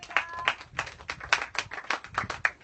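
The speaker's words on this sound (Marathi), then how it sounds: "त्यांच्यासाठी आपण टाळ्या वाजवू." A group of people claps hands together at a gathering, with a fairly steady rhythm of sharp, close claps that continues throughout.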